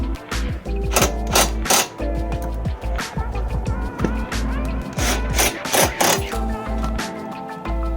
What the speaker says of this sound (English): Screw the M8 nuts through the underside of the bumper to the previously placed carriage bolts